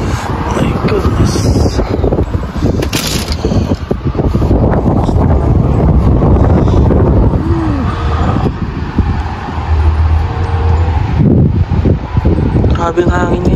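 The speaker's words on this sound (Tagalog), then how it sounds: "Grabe ang hangin ngayon." Strong wind in Canada roars and buffets the microphone continuously, with a low rumble like passing traffic in the background.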